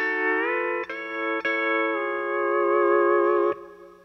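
A pedal steel guitar phrase played with the A pedal and F knee lever, sustained ringing chords that bend smoothly in pitch, with a few light picked re-attacks before fading.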